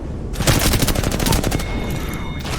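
Enemy gunfire rattles in the Apex Legends video game, rapid bursts of loud, close automatic shots hammering almost continuously, with a steady tone hanging underneath near the end.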